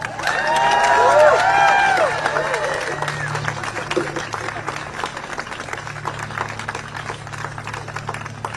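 A crowd at a Harvard rally for international students cheers loudly at first, then settles into sustained applause and clapping with background chatter.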